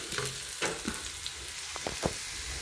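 Onions and lemongrass fry in a pan, a steady close sizzle broken by scraping stirs and spatula clicks.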